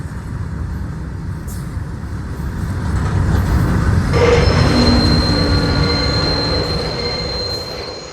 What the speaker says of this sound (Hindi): ये ट्रेन भी काफी लेट आई है